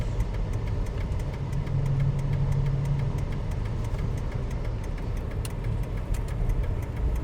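A car drives on a road from Phoenix to Tempe under a bridge toward a frontage road, its engine humming steadily from inside the cabin with faint rhythmic ticking.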